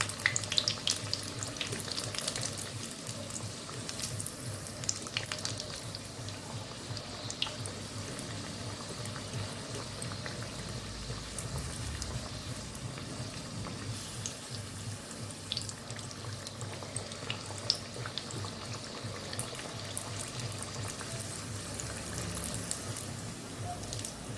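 Nimki, a salty Bengali snack, deep-frying in a pan of oil, giving a steady, dense bubbling sizzle that stays even and fairly loud throughout.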